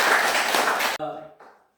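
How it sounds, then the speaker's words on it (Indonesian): Applause for a group in a classroom, a brief burst of clapping that stops abruptly and gives way to a voice speaking. "Oke, tepuk tangan untuk kelompok 2."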